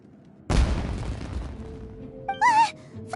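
Fireworks go off in one sudden loud boom with a rumbling decay over about a second. A short vocal sound follows near the end.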